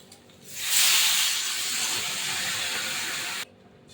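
Water poured into a hot pan of taro and potato curry sets off a loud, steady hiss that swells quickly, holds for about three seconds, then stops abruptly.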